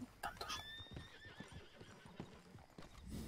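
Horse in a video game, whinnying in a bright rising call over clip-clopping hooves at close range, with people talking under it.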